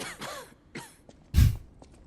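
A dying woman in the video game Lies of P coughs weakly a few times, ending in a heavier, louder cough, close and without talk.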